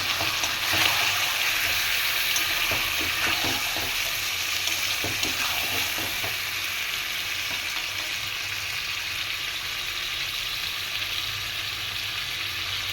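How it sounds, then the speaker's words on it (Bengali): Lemon chicken sautéing in a pan gives a steady, close sizzling hiss throughout, with a few light stirring clicks and scrapes in the first half and no talking. "একটু কষিয়ে নেবো আমি।"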